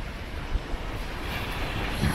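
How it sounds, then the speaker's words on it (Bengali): Waves surge on the flooded, monsoon-swollen Panchmukhi river in Jharkhand, a continuous broadband wash of churning water buffeted by wind noise, no voices. "একটা ঢেউ আসছে"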